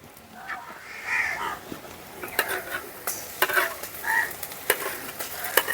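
Ginger garlic paste fries with reddened onions in a village-style kitchen. A soft sizzle runs under repeated scraping and stirring knocks, with a few brief chirps in the background.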